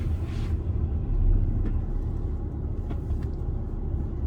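A steady low rumble of Friday road traffic in Australia with passing cars, moderately loud and continuous, no voices.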